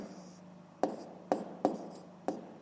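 Pen on paper writing numbers during a fifth-grade maths exercise: four faint, sharp taps and short scratches close by in a quiet room.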